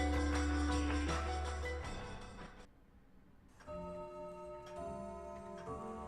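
A big clock in a mansion lobby ticks steadily at midnight beneath loud layered music that drops away briefly before swelling back in.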